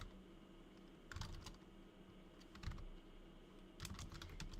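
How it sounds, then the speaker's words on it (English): Quiet clusters of computer keyboard keystrokes come in short bursts of rapid clicks separated by brief pauses, close and faint over a low room hum, with no talking. "I'm typing it out."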